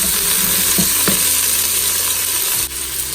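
Garlic sautés in an Instant Pot with a loud, close, steady sizzle and a few soft stirring knocks, and the sizzle dips briefly near the end.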